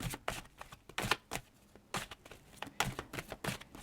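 Tarot cards are drawn and laid out for a reading, giving a series of quiet, crisp card flicks and slaps in an irregular rhythm, close by with no talking.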